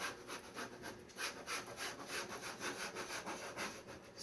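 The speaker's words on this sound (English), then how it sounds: "Now you want to grab your scraper and you're going to go over it pretty lightly this time." A scraper rubbed lightly back and forth over a vinyl wall decal during application, a steady rhythmic swishing of repeated strokes, close and continuous with no talk.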